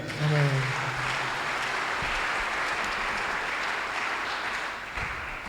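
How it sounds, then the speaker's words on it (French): A church congregation bursts into sustained applause to acclaim the Lord, a dense even wash of clapping that fills the space from start to finish, with a brief vocal tone at the outset. "Nous pouvons d'abord acclamer le Seigneur"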